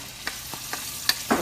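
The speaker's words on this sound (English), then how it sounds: "I'm going to go ahead and add the capers and the peppers" Capers and peppers hitting a hot skillet, a low sizzle broken by several short scraping taps and a brighter spit at the end, close and moderate in level.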